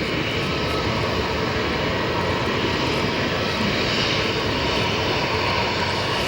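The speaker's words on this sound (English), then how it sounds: "Still see those engines spinning." Spirit Airlines jet engines keep spinning as the airliner parks at O'Hare Airport, a loud, steady broadband roar heard from a hillside vantage point with no break in the sound.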